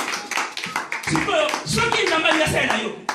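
Church congregation clapping in praise of the Lord, a steady, dense round of hand claps mixed with voices that carries through the whole stretch.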